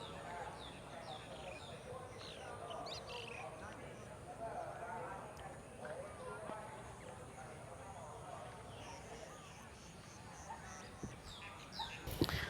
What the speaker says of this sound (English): You can hear a lot of birds, crickets, wildlife.